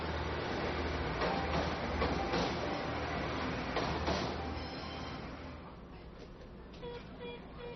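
Train on the narrow-gauge Pingxi Railway in Taiwan, a steady rumbling clatter of wheels on track that fades slightly toward the end, with no talk over it.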